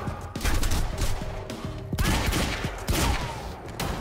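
Shotgun gunfire in the video game Quantum Break, a rapid series of sharp, loud blasts with metallic echoes in a chaotic combat exchange.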